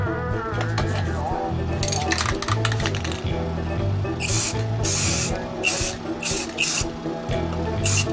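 An electronic drum kit shell is spray painted with an aerosol can, hissing in several short bursts close by over a humming background and faint talk.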